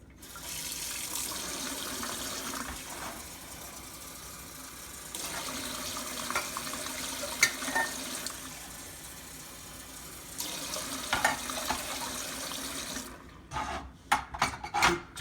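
Two cups of water run from a kitchen tap for pickled herring brine, a continuous rushing stream that pauses and restarts several times and ends in a few sharp clunks.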